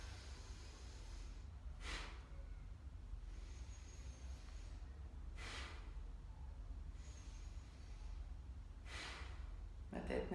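Deep breaths taken during a morning breathing exercise, with three strong airy inhales spaced a few seconds apart over a steady low background rumble, fairly close and alone without talk.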